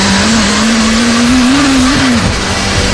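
A heavily modified Mini, a £25,000 build with Ferrari 360 pace and 0-60 in 3.4 seconds, drives hard. Its loud, close engine holds a steady strained drone that climbs slightly in pitch for about two seconds, then drops away.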